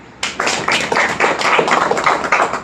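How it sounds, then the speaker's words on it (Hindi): An audience at a Bhagavad Gita lecture breaks into steady, close applause, with many hands clapping in a dense, continuous patter that starts abruptly and carries on throughout. "ताली बजाओ"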